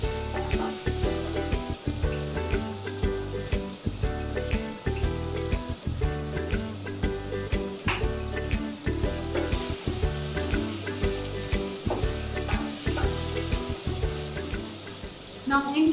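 Moringa drumsticks for sambhar fry in oil with a continuous close sizzle and occasional stirring clatter, under steady background music.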